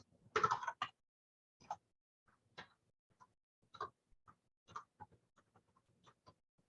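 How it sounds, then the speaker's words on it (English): Typing on a computer keyboard during Python work with EMAN2 image files: an irregular run of clicky key taps, a dense burst at first and then sparser single strikes, close and fairly quiet with no talking. "My typing."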